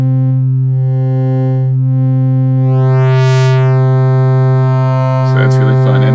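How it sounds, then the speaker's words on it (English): An oscillator in the Drambo synthesizer app holds a loud, steady sine-wave tone while a higher pitch sweeps up and back down over it, and a short bit of buzzy distortion comes in at the end. "right now it's set to a sine wave"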